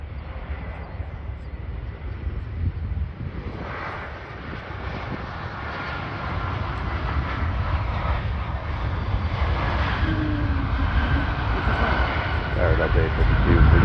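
A Delta airliner landing on runway 12 right at Minneapolis in spring, a steady distant jet roar with a strong low rumble that builds gradually over about fourteen seconds, with radio talk over it.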